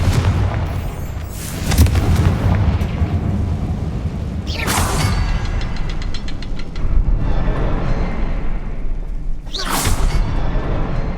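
The Confringo fire spell from Hogwarts Legacy goes off as loud booming blasts, with three sharp explosive bursts spaced several seconds apart over a continuous rumbling background.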